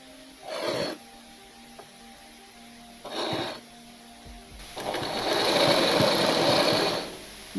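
A sewing machine stitching a baby dress gives two brief bursts, then a longer steady run of several seconds, close and clear with quiet gaps between.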